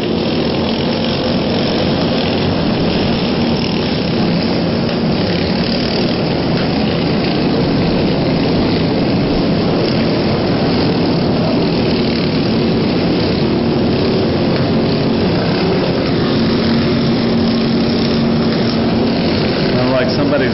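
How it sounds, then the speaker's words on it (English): A racing lawnmower engine drones loudly and continuously, revving near its RPM limit and holding a high pitch throughout, with a commentator talking over it. "Got their mower revving up to the high side of the RPM limits right now"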